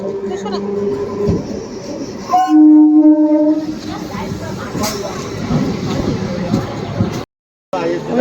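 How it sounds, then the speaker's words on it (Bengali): A train rumbles into a station in Kolkata, a loud horn blast sounding midway over the rolling clatter, with people talking nearby. "স্টেশনে চলে এসেছি আর এখন ট্রেন আসছে"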